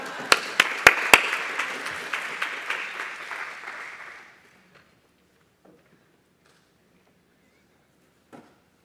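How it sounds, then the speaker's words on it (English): Audience applause for a teacher at a math talk evening, a burst of claps opening with a few loud sharp hits, then fading out by about four seconds into near silence with a stray thump later. "Let's give a warm round of applause for David."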